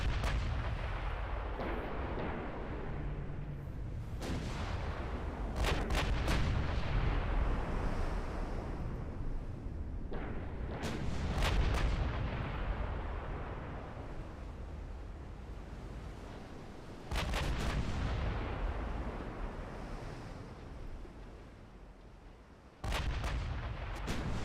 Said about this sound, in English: Let the Kojin's 9-inch guns start ripping through these things.